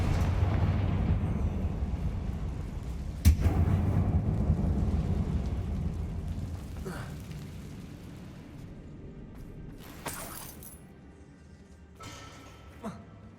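A Confringo fire spell explosion in Hogwarts Legacy set in an abandoned mine: one sharp blast goes off, with loud rumbling ambience around it and a few later impacts.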